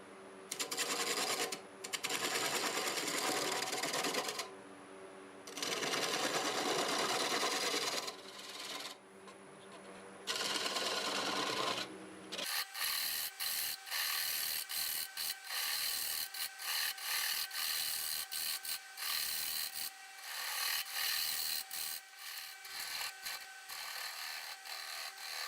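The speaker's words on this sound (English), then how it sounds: "I'm going to use this 1/2-inch bowl gouge and start taking it down a little bit" A 1/2-inch bowl gouge cuts soft river birch on a wood lathe turning at about 575 RPM, a rough scraping hiss that comes in long passes at first, then breaks into rapid, choppy catches.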